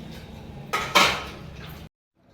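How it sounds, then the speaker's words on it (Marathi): Dishes and pans clatter briefly in a sink over a steady background hiss, with a couple of louder clinks, then sudden quiet. "आता मी कपडे धुवून आता भांडी धुवायला लागले होते"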